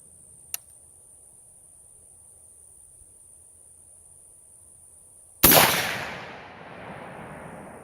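A single sharp, loud rifle shot from a 100-year-old Mauser cracks out of a quiet outdoor backdrop of steady cricket chirping and then rings off in a long decaying echo.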